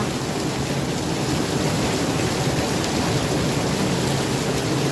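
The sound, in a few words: heavy rain with thunder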